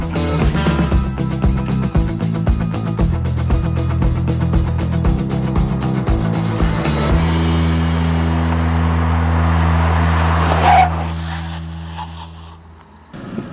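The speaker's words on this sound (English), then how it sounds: "what we really want to do is a 0 to 60 run on our track" A small-engined Ford Fusion revs hard on a test track at high altitude, its steady loud engine drone shifting pitch partway through and then fading away, with no voices.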